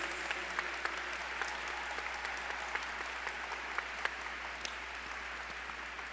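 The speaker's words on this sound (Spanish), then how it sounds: "¿por qué no le damos un aplauso a Dios por la vida de cada uno de nuestros invitados en este panel?" An audience at a panel forum applauds in a dense, continuous wash of many hands, steady and somewhat distant, with a few sharper claps popping out.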